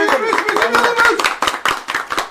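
Quick, irregular hand claps close by, several sharp claps in a row, mixed with people talking at a New Year's livestream.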